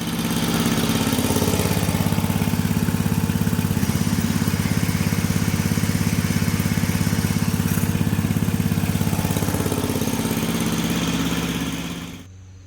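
A Rugg Carpet Cut lawn mower runs with its blade engaged, a steady loud droning engine hum that holds for about twelve seconds before cutting off abruptly.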